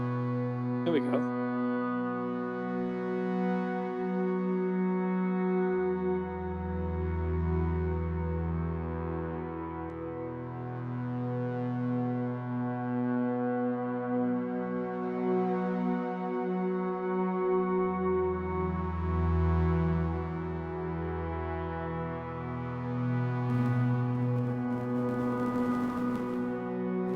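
A dirty, gritty ambient pad built on Ableton Live's Wavetable synth, with reverb, holds long droning chords that slowly shift with deep swelling bass notes, sustained and alone, ending in a brief noisy burst.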